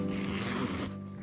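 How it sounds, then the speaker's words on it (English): A zipper on a Qatar Airways Oryx kids club gift pouch is drawn open in one smooth pull lasting about a second, close and clear, with no talking. "I will now unzip it."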